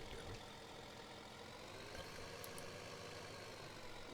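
A big Case tractor idles in the video game Farming Simulator 15, a steady, faint engine rumble running evenly throughout with no talking.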